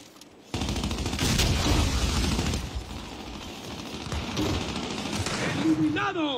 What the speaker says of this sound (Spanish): ¿De dónde llega esos disparos?